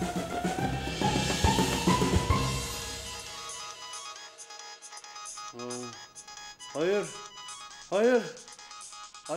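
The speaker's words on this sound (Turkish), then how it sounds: "Bu alarm niye ötüyor bu saatte?" A phone alarm tone plays, beginning as a melodic chime and ending in several rising-falling electronic warbles, loud and close.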